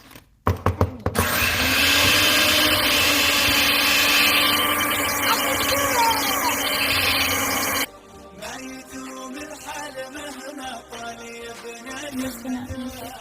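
An electric mixer churns Nutella chocolate chip cookie dough with a loud, steady whir for several seconds, then cuts off abruptly, leaving quieter kitchen clatter and faint background sounds.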